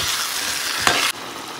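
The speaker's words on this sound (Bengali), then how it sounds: "আগে থেকে ভেজে রাখা আলু আর একটুখানি দিয়ে দেবো মটরশুঁটি, দিয়ে এটা একটু কষিয়ে নেব।" Fried potatoes with peas and spice paste are sautéed in a pan, giving a close, loud, continuous hissing sizzle with a scrape of stirring near the end before the sizzle settles slightly. No talking.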